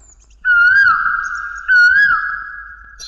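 A voice imitates the Asian koel's call, giving two clear, loud, rising hooting notes in quick succession, close by against an otherwise quiet background.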